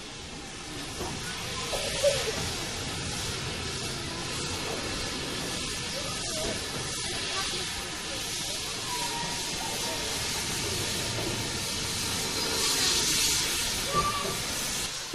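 A steam locomotive at Sheffield Park on the Bluebell Railway lets off a broad, continuous hiss of steam that stays loud and steady for the whole stretch, with faint background activity underneath.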